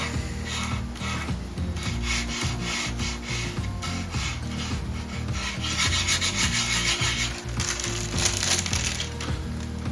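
Close, steady rubbing and scraping as metal leaf on a backing sheet is pressed and rubbed onto a custom guitar body, continuous strokes with varying pressure and no talking.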